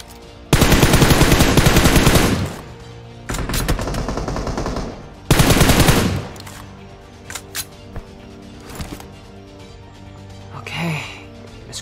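Gunfire in the mobile battle royale game PUBG Mobile: long, loud bursts of automatic fire in three stretches, then scattered single shots and fainter distant pops, close and dominant over a steady game background.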